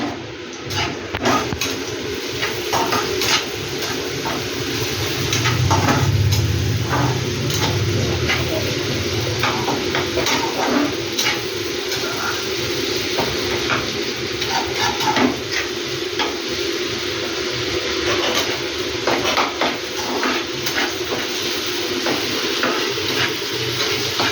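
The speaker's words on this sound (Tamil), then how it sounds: "உப்பு சேர்த்து வெங்காயத்தை நல்லா வதங்க விடுங்க" Onions with a pinch of salt sauté in a pan for mutton liver fry, a steady low sizzle with occasional stirring scrapes and clinks running continuously throughout, no talking.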